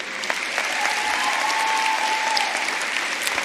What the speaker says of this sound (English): please give a round of applause to your parents and family members that are here